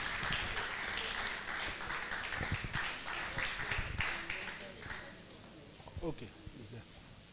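Audience applauding at a university valedictory ceremony honouring a retiring professor, clapping that fades over several seconds, with voices and stray claps continuing beneath.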